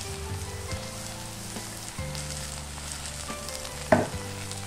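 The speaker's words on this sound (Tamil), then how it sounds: "அரைச்சி வச்ச பவுடரை கடாயில மாத்தி நல்லா வறுக்கணும்." Ground spice powder roasting in a kadai for a mutton curry, a steady soft sizzle with scraping stirs, faint throughout and ending in one louder clatter near the end.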